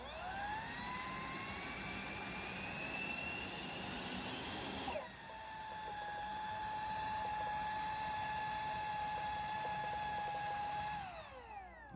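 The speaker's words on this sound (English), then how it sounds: "Can anyone tell me why this EDF is making this noise?" An electric ducted fan in an EDF drone power setup, with suspect ESC or motor and loose wiring, whines in a loud steady high-pitched drone that shifts pitch midway, then winds down at the end, heard alone.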